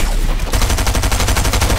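Light machine gun fire in Fortnite, a fast, even stream of loud rounds that starts abruptly after a brief lull and keeps hammering without a break.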